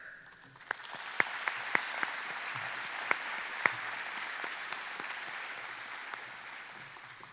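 A live audience breaks into steady, sustained applause welcoming Mayor Easter, a first-year mayor, at a State of the Cities and County development series event, with a few sharper individual claps popping above the dense wash of clapping.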